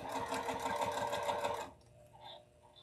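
A sewing machine stitches around the outline of a holiday stocking with a steady, close, continuous whir that cuts off abruptly midway, leaving only faint room noise and small clicks.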